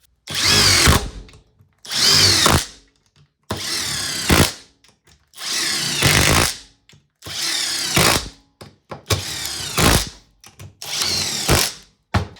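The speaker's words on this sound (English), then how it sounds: "These impact drivers put the screws in, as well as I also want to show you just, when they start doing the impacts" Cordless impact drivers drive screws, including a Makita-compared alloy model, in seven loud, close bursts of whirring and rattling impacts, each lasting about a second with short silent gaps between them.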